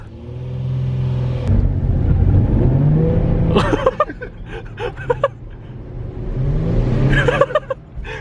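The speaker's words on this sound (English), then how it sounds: "Spinning tires, it's not clutch. That's straight tires from all the HR power." A Nissan 350Z with the HR engine revs hard in two loud surges, each rising then dropping with sputtering, crackling bursts, while the tires spin, close by and with no talking.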